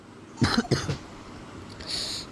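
A few harsh coughs close to the microphone in quick succession, followed by quieter breathing noise.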